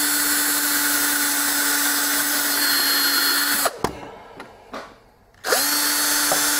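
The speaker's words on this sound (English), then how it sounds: "drill your stuff in here" A power drill drives into wood for a D&D LED sign build, whining steadily for several seconds, stopping briefly with a few knocks, then spinning up again. The drill is loud and close, with no talking.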